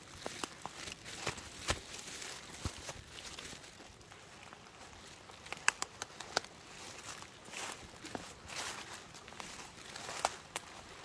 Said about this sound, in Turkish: yakından izlemek o kadar güzel ki yağmurun yağışını çam ormanında, bir de şöyle akan derenin yanında